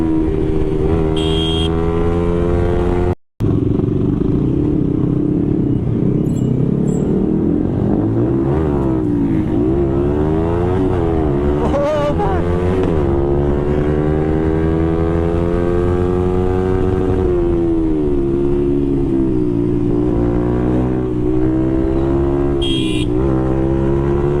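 A motorcycle engine revs hard through a wheelie, a loud continuous roar whose pitch climbs and dips repeatedly, close and dominant with a brief cutout early on.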